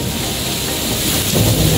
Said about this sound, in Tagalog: Nakidlat na eh!